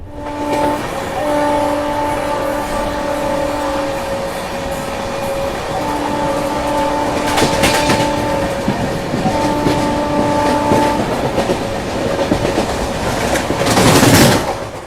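A train runs toward Nagpur railway station with a steady rumble and rattle of the carriages. Over it, a horn sounds in long sustained blasts, some with pauses between them, and a harsher burst comes near the end. It is loud and close, with no speech.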